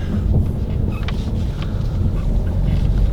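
A 2019 Jeep Renegade Trailhawk off-roading in four-wheel drive low with locked differentials, heard as a low engine and tire rumble under heavy wind buffeting on the microphone, with no voices.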